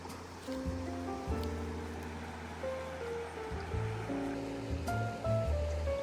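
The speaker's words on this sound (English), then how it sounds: "Now I think I hear some running water over this way," Running water on the Oregon coast, a steady, dense wash of rushing water heard up close and filling the whole stretch without pause, with some faint tonal sounds drifting over it.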